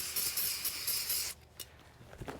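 Brake cleaner sprayed onto a new brake rotor for a 2007-2013 Nissan Altima in a steady hissing burst of about a second, then cut off, leaving faint handling noises close by.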